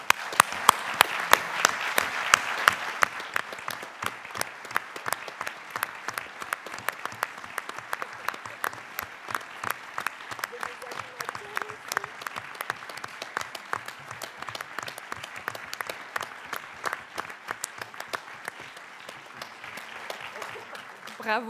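Audience at a project video award ceremony and closing event applauding the organisers, a dense, steady, sustained clapping from a large crowd that continues throughout.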